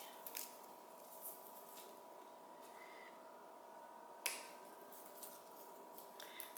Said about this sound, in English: So we're just going to keep on trimming